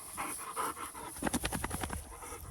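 A pet dog pants close by, starting with slow, breathy huffs and quickening into a steady run of rhythmic panting breaths outdoors among flowers.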